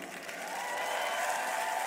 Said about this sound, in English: look at this crowd. This is a packed stadium